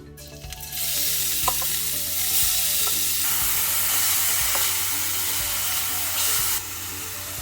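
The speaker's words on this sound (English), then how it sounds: "Saute until the onions turn translucent." Onions sizzle and sauté steadily in a hot pan with mustard seeds already in the oil, a loud continuous frying hiss with occasional light stirring clicks, no voices.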